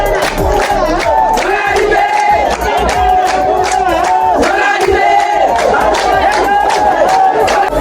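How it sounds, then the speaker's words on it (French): An immense village crowd led by the chief and notables welcomes visitors at a family reunification ceremony in Befla, loud cheering, whooping and chanting voices with rhythmic claps or drumbeats throughout. "nous sommes accueillis par une foule immense"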